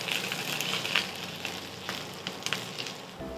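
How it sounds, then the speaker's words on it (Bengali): Red lentil paturi shallow frying in a little oil, a close, steady sizzle with faint crackles and a few soft pops, no talking. "এই তেল ছড়িয়ে ছড়িয়ে অল্প অল্প করে শ্যালো ফ্রাই করতে হবে"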